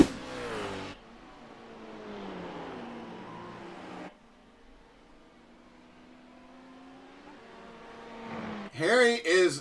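A GT3 race car roars past on the Monza straightaway in a racing game, a loud engine whine rising then cutting off, followed by a quieter droning engine and another passing car, with a commentator talking over it.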